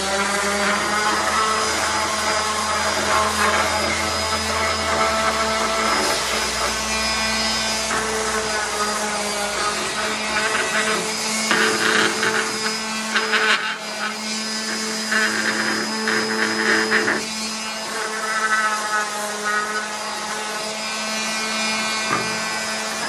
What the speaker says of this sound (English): I'm going to give it a quick sanding.